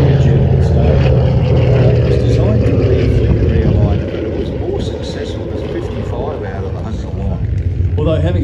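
A propeller warbird at the Warbirds Over Wanaka 2024 airshow drones loudly and steadily through the whole stretch, easing slightly midway, with a commentator talking over it.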